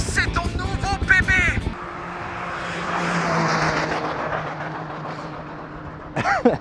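A car engine holds steady at the rev limiter, its strained exhaust droning loud and continuous with a faint pulsing edge during an hours-long endurance run; someone talks briefly before and after.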